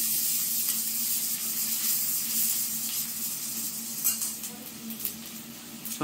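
Chopped tomatoes go into a hot pan after browned potatoes, producing a bright, hissing sizzle that stays loud and steady, with a few sharper crackles and utensil touches near the end.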